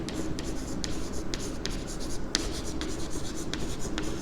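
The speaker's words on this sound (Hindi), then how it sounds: "मैं लिखता हूँ" Pen writing by hand on paper while working a mathematical logic exercise, a steady close scratching with short repeated strokes and brief pauses, no talking.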